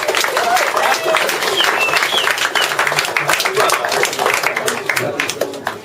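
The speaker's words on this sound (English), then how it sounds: "You guys give your parents and everybody else a clap" Group applause after an Under 16s presentation, parents and everybody else clapping together at close range, dense and steady for several seconds with some voices and whoops mixed in.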